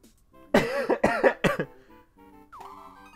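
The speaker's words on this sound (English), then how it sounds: "Sorry, I had to cough." A person coughs several times in quick succession, sharp, near and voiced, the fits bunching within about a second, followed by a brief tonal sound from a video game.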